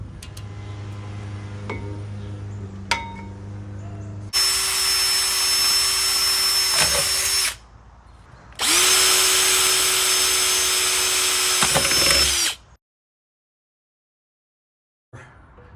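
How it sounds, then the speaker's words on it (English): Tools worked on a Ford Raptor's brake caliper, removed with a long ratchet, produce loud, steady whirring runs of a few seconds each, split by brief pauses, with a clatter and clicks before the first run and silence near the end. "Now we're gonna remove the brake caliper. So you gotta have a long ratchet"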